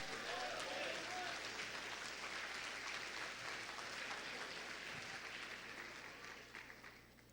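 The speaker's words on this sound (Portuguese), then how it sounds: "pode aplaudir ao Rei Jesus, aplauda Ele, adora o nome dEle." Congregation applauding during a church worship service, a dense, steady wash of clapping from a large crowd that slowly fades toward the end, with voices mixed into the noise.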